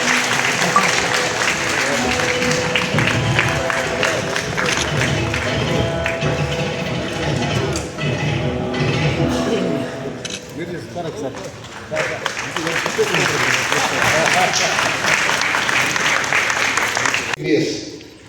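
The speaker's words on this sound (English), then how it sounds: "all of you clap more for him" Loud, sustained applause from a large crowd at a chartered accountants' event, dense and continuous, dipping briefly in the middle before surging again and fading at the end.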